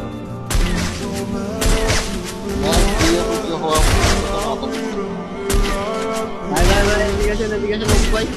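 Rapid gunfire bursts and impacts in a shooting video game, loud and dense over backing music and effects, with a player talking over the action.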